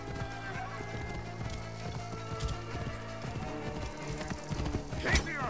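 Hooves clip-clop in a steady galloping rhythm as a horse runs in Assassin's Creed Origins, with a brief neigh near the end, all layered over game music at moderate level.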